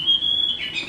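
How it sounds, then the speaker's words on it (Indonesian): A rice woodpecker, a hole-nesting bird kept by a breeder, gives one sustained high squawking call lasting under a second, fairly close and clear over faint background noise. "Ini pelatuk beras."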